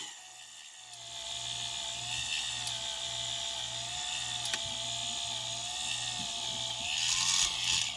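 A 1976 Cadillac Eldorado power antenna retracts with a faint, steady motor whine and a regular ratcheting pulse, ending in a brief louder rise.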